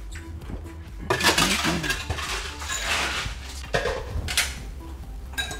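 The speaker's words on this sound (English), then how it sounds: "Now, a little ice." Ice cubes clatter and clink into a glass holding a tequila cocktail with Angostura bitters, a loud, close jumble of knocks followed by a few scattered clinks.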